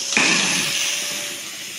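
A Southern Pacific 6380 steam engine lets out a sharp hiss that starts abruptly, then slowly fades over the next second and a half, heard alone with no talking.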